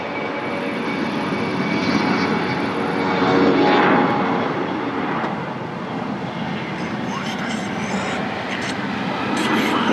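A fixed-wing airliner at Lisbon Airport roars steadily and loudly with broad engine rumble, swelling slightly midway, heard from the plane-spotting vantage point without talk.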